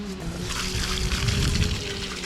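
Water streams steadily over a dirty part from an abandoned Chevy Tahoe during a rinse, a loud continuous splashing gush close by.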